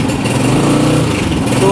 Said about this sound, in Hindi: तो देखिए दोस्तों, हमने यहाँ पे बाइक को स्टार्ट कर लिया है